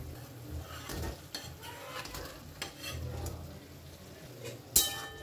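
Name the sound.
cut paneer added to frying spiced masala in pan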